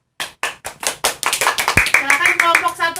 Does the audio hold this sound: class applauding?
yes